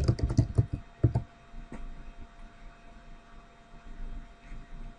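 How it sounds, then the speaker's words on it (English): Keyboard typing on a computer in a quiet room, a quick burst of close, sharp key clicks in the first second or so, then fading into faint scattered taps over low background hum. "And I can even type while that's loading."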